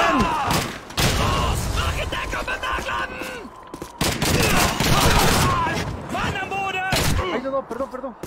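In a war video game, a German grenade blasts amid heavy gunfire, with loud booms and crackling shots layered densely under excited shouting voices throughout.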